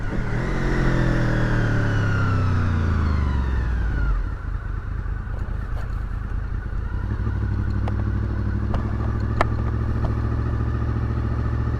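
A 2000 Honda VFR800 motorcycle rides close by, its engine loud and steady throughout, with a falling rev pitch early on before settling into a sustained drone as it cruises, plus a few sharp clicks.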